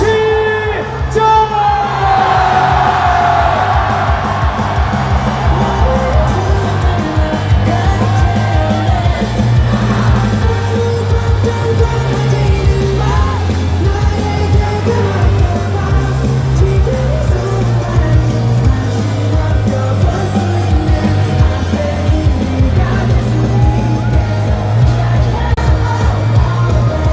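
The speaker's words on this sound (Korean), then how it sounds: "다시 한번 승리 함성" A large crowd of citizens celebrating a court ruling to remove the president from office shouts and cheers in unison, a dense, loud, continuous roar of yells and whoops with strong low rhythmic pulses beneath it.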